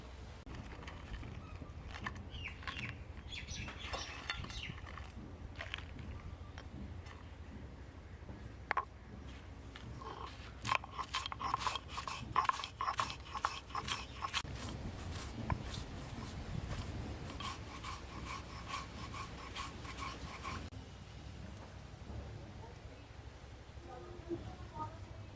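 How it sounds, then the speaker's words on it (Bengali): Biscuits crushed on a traditional Bengali shil-nora grinding stone, giving repeated scraping, grinding and knocking strokes that run in a steady rhythm for most of the clip, loudest in the middle section, with quiet room noise around them. "এখন আমি শিলনোড়ায় বিস্কুটগুলো গুঁড়ো করে নেব।"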